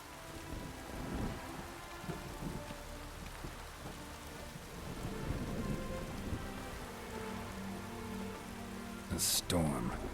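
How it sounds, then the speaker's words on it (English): Steady rain falls with rolls of thunder in the video game The Witcher 3, set at a haunted manor; the storm sound runs continuously under occasional talk, with a sharper burst near the end. "A storm, damn it."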